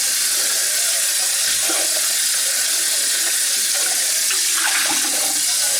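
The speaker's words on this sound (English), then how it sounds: "So now that this water's contaminated, it has fish glue in it, I'll just dump it out and rinse" Water contaminated with fish glue is dumped out of a container and rinsed, giving a steady hissing pour and splash throughout.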